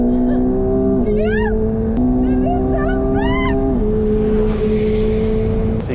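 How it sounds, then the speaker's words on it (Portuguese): A McLaren 750S turbo accelerating on a Las Vegas track, its engine holding loud, close tones that step up with each gearshift, while a voice yells and whoops excitedly over it. "É um carro turbo, vocês vão conseguir ouvir aí já o barulho da turbina"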